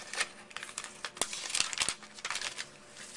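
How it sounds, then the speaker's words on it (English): Sheet of origami paper being opened out and creased, giving a run of dry crinkling and crackling rustles with a few sharper snaps, close and moderately quiet, with no voice. "next you'll open the piece of paper up"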